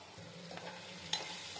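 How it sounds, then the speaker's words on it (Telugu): Onions and chillies fry in hot oil, a faint, steady sizzle with a small clink partway through, quiet and with no talking. "ఆయిల్ వేడెక్కాక ఆనియన్స్, చిల్లీస్ వేసుకుందాము."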